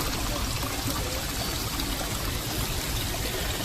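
Water rushing down the tailrace of an old water wheel pit in a wooded river valley, a dense, continuous broadband roar close to the listener with no pauses.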